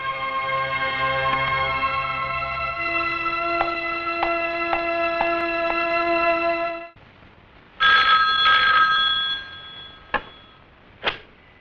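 A telephone rings at a police station with a repeated electronic ringtone pattern for several seconds, then cuts off, followed by a few brief clicks and knocks.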